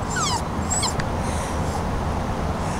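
Several high, thin dog whimpers and whines rise and fall in quick succession early on, then fade into steady background noise.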